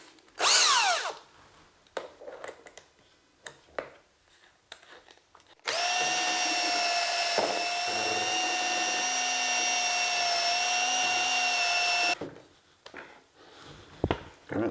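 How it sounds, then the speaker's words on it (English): A power drill with a mixing attachment churns bone-dry clay reclaim into slip, running in one steady, loud whine for about six seconds, framed by bumps and handling noises before and after. "Got my drill here."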